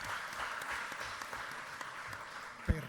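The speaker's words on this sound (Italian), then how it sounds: "Un applauso" Scattered clapping from an audience at a round-table talk on the Sicilian language, a soft, thin patter running through the whole stretch, fairly distant and low, with one sharper thump near the end.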